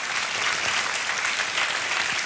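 A studio audience on the Indian TV quiz show Kaun Banega Crorepati claps steadily and loudly throughout, a dense sustained applause filling the hall.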